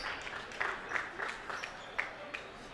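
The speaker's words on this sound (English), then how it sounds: "give him a little standing applause when he comes out" A high school basketball crowd at Brandon Valley applauds a Pierre player heading to the bench, a moderate, steady clatter of clapping with a few sharper claps standing out.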